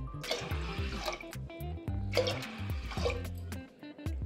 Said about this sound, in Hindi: अब मैं इसमें पानी डालूंगी। देखिए मैं कितना पानी डालती हूँ।